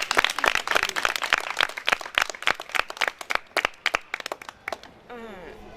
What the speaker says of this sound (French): Applaudissez Marie.